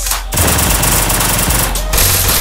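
Rapid automatic gunfire from a battle royale video game, loud and close, firing in dense sustained bursts with two brief pauses between them and no talking.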